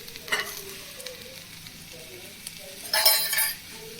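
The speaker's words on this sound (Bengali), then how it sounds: "এর সঙ্গে গোটা শুকনো লঙ্কা দিয়েছি কটা, এগুলো এর সঙ্গে ভেজে নেব।" Whole dry red chillies and tomato crackle softly in a pan, with a couple of brief louder bursts of sizzling and a light metallic clink from stirring.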